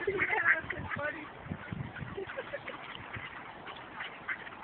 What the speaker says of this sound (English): There's a lot of good ducks.